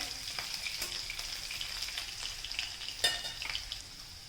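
Cabbage bhaji with curry leaves is stirred in a hot pan, a steady soft sizzle broken by light scraping and a few sharp clinks of the spoon against the metal.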